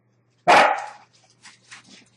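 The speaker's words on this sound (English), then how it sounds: "Here's the dog's barking again." A single loud, sharp dog bark close by, followed by fainter scattered sounds afterwards.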